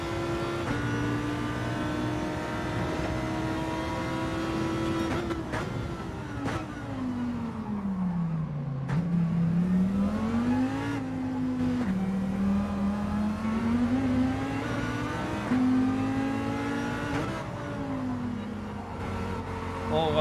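A Lamborghini race car engine in Gran Turismo 7 drones steadily throughout, its pitch dipping and climbing through gear changes and throttle shifts, loud and continuous.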